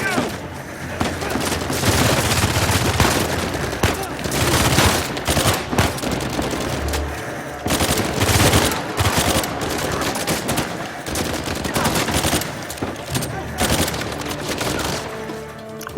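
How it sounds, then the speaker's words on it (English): Video game gunfire in Uncharted 4: dense, sustained bursts of automatic weapon fire and shots cracking throughout a firefight, loud and continuous, with in-game voices occasionally under the shooting. "Who's shooting at me from this side?"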